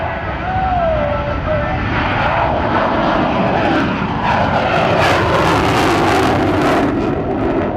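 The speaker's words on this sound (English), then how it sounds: "Once again, witness the extreme power of the F-14 Tomcat." An F-14 Tomcat fighter jet roars through a touch and go at an air show, a loud continuous engine rumble and whine that swells toward the middle with a faint announcer's voice underneath.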